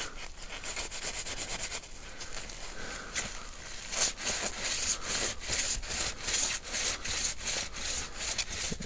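A part of a Toshiba V8600 Beta VCR is scrubbed evenly, a close, dry rubbing rasp in quick regular back-and-forth strokes that continue steadily throughout.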